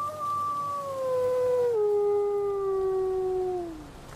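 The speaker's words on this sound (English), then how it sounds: "he's sad sounding puppy" A sad-sounding puppy howls in the video game Left Alone, one long mournful, gliding cry that slowly falls in pitch over about four seconds, loud and alone with faint background ambience.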